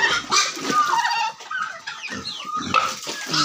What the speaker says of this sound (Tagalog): Ito yung alaga nating pabo, dito rin sila guys, no?